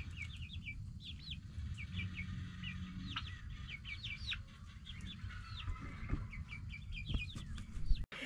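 Turkeys and other poultry cluck and chirp in short, rapid bursts over a low, steady background hum.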